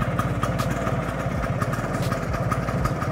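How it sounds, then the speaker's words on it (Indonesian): A Vespa scooter engine idling steadily nearby, a loud low rhythmic putter with rapid regular firing pulses and a slight mechanical clatter on top, alone without voices. "jadi sekarang Vespanya langsamnya udah enak."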